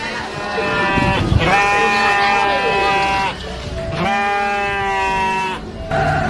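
Goats herded on a farm give two long, wavering bleats, loud and near, over a continuous rumbling backdrop.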